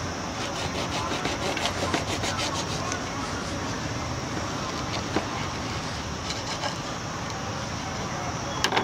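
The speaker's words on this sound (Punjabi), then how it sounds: "ਹੁਣ ਅਸੀਂ ਇਹਨੂੰ ਡਿਵਾਈਡ ਕਰ ਦਾਂਗੇ 2 ਪਾਰਟਸ 'ਚ ਤਾਂ ਕਿ ਖਾਣ 'ਚ ਥੋੜ੍ਹਾ ਈਜ਼ੀ ਰਹੇ" A knife slicing a crispy burger in half at an Amritsar street food cart, giving a steady rasping, crunching cut over busy outdoor street noise, with no talk.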